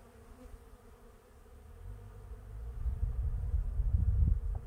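Honey bees hum and buzz around an open hive during a spring inspection, a low droning swarm that grows steadily louder and closer over a few seconds, with no talking.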